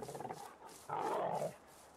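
A dog in the video game Russian Fishing 4 lets out a loud, rough, growling bark that rises suddenly and holds for about half a second, following a softer burst of sound, with no talk over it.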